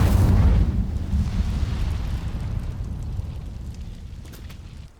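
A fire spell bursts in Hogwarts Legacy with a loud, deep booming blast at the start, then a rumbling crackle of flames that slowly fades over several seconds.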